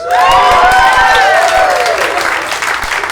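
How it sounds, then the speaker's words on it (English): At a live stand-up comedy club, the audience breaks into loud, sustained applause mixed with a few cheers and whoops, filling the room and staying strong before easing slightly. "Round of applause"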